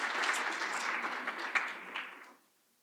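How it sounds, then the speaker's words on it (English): Audience applause at a scientific conference on applied neuroscience, a moderately quiet, steady patter of many hands that swells briefly near the end and then fades to silence. "We're still applauding you guys."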